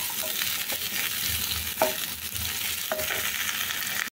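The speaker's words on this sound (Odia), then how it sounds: "ଗ୍ୟାସ୍ର ଫ୍ଲେମ୍କୁ ମିଡ଼ିୟମ୍ ଟୁ ଲୋ କରି କ୍ୟାପ୍ସିକମ୍ ପିଆଜକୁ ଆମେ ଭାଜିନେବା।" Capsicum and onion fry uncovered in a pan over a medium-low gas flame, giving a steady close sizzle with a few brief scrapes and clinks of stirring.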